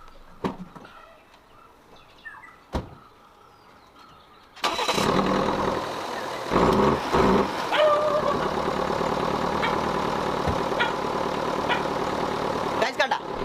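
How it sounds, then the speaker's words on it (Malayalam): A car engine cranks and catches, then settles into a loud, rough, abnormally noisy running drone, preceded by a few sharp clicks and quiet background sounds. "ഞാൻ വണ്ടി ഒന്ന് സ്റ്റാർട്ടായി കാണിച്ചാൽ നിങ്ങൾ അതിന്റെ സൗണ്ട് ഒന്ന് ശ്രദ്ധിച്ചു"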